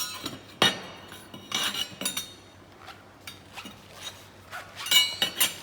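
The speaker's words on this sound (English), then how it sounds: "Now we clamp it." A workpiece being clamped on a fiber laser welding machine: scattered metallic clinks and knocks, moderately close, irregular and sparse with quiet gaps between them.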